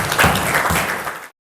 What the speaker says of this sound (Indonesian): Kasih tepuk tangan untuk Mika dulu